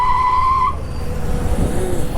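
A BMW CE-02 electric scooter brakes hard in a quick stop. A high tire squeal lasts under a second, then the rumble of wind and road noise carries on.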